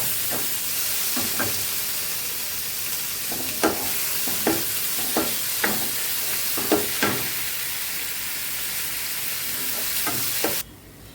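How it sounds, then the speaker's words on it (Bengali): Chopped tomato sizzles in a hot frying pan with a constant loud hiss. Regular spoon knocks and scrapes from stirring sound over it before the sound cuts off abruptly. "এখন দিয়ে দিচ্ছি কিছুটা টমেটো।"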